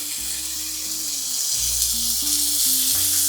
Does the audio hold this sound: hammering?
no